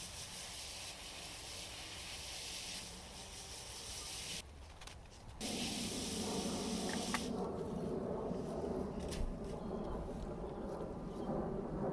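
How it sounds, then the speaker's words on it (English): Water pours and hisses steadily from a hose or can onto sodden compost around a newly planted tree, a continuous close wash that briefly drops away then resumes louder. "just give it a really good water in and make sure everything's soaking"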